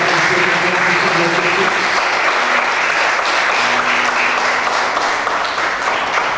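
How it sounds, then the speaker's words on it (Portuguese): Steady, dense applause from a church congregation fills the whole stretch at an even, loud level, with some low crowd murmur beneath the clapping. "Para uma salva de palmas para você"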